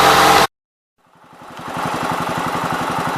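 The engine of a 450 mower: a loud engine roar cuts off abruptly, then after a second of silence the engine builds back up to a steady, throbbing run, close and loud.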